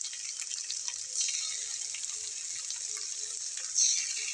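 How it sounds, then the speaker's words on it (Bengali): Tap water runs steadily into a pot being washed at a kitchen sink, a continuous close hiss with a slight surge of splashing near the end. "এবং এই পাত্রটা ধুয়ে আমি এখানে একটু পানি দিয়ে নেব।"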